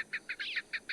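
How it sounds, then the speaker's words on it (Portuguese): Repeated short bird calls of a partridge in the detective video game Sherlock Holmes: Nemesis, five or six bright chirping bursts in steady rhythm, close and clear with no talk. "It's definitely a partridge."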